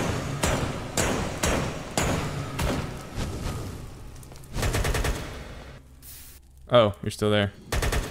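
An AK rifle fires in Minecraft in a series of loud, sharp single shots spaced about half a second to a second apart, then stops. A player speaks briefly near the end.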